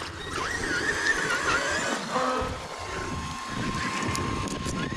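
A Traxxas X-Maxx RC car fitted with a Castle 1721 1260kv motor runs at speed, giving a steady, loud high-pitched electric whine with pitch sweeps as it races past.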